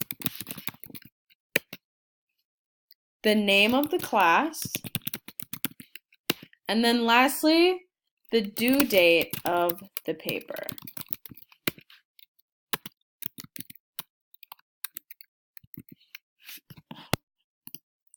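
A computer keyboard is typed on close by in scattered bursts of sharp clicks and taps, while a person talks over part of the typing.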